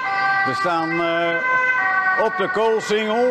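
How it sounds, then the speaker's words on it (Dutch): An ambulance siren passes along the Koolsingel in Rotterdam, its loud wailing tones sweeping up and down close by, while someone speaks over it. "je hoort een ambulance voorbij komen"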